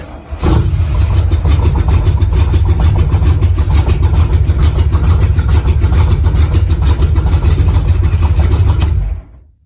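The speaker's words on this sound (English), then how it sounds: "the start button will actually crank the engine over" A 1969 Cobra replica's engine cranks and fires after a short pause, then runs at a loud, steady, throbbing idle close by for several seconds before cutting off abruptly.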